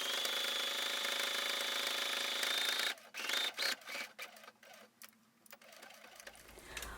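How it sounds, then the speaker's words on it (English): A sewing machine stitches a second row along the facing of a yellow wool coat, running steadily for three seconds, then stopping and starting in short bursts with no talking. "now I'm stitching on top of the facing"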